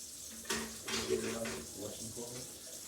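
Tap water running in a kitchen sink while juicer parts are washed by hand, a low steady splash with clinks of parts under it and a voice talking faintly over it.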